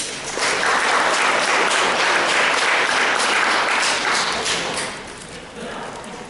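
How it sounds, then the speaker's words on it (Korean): Audience at a legal forum on mental disability and community integration gives a steady round of welcoming applause, dense and even for about five seconds, then fading lower toward the end. "환영의 박수 한번 해주시죠."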